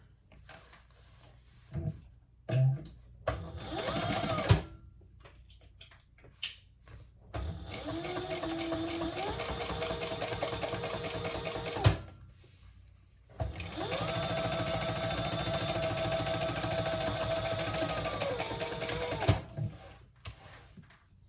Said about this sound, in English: we're going to fold that over and top stitch with that seam underneath there